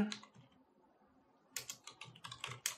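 Quick bursts of keystrokes on a computer keyboard as a company name is typed, a short flurry of close, crisp clicks, then a pause and a denser run of taps.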